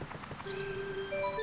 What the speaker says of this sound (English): where it hangs on the first note while Yoshi turns